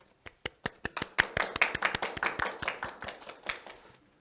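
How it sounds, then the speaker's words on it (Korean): Sparse, distinct hand claps from a science lecture audience build into a short round of applause welcoming the speaker, individual claps clearly audible rather than a dense roar, then taper off. "그럼 큰 박수로 모셔보도록 하겠습니다"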